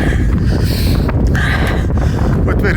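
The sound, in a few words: wind on a mountain hike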